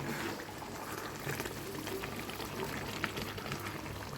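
A pot of thick chicken gravy bubbles and simmers up close, with a steady soft gurgling and occasional pops, no voices.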